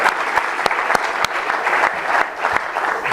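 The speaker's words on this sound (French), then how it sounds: "on acclame très fort là" Loud, sustained applause from a church audience fills the space, with a dense clatter of many hands and sharp individual claps standing out throughout.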